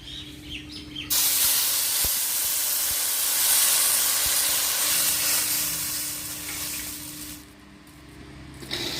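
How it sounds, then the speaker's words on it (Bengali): Water poured onto fried lentils in a hot pan sets off a sudden loud hiss that roars steadily for several seconds, then dies back to a quieter bubbling simmer. "এখন আমি জল দিয়ে দিচ্ছি"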